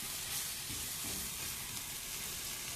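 A frying pan holding bits of bison patty hisses in a constant, dense sizzle, with faint scraping under it for a few seconds.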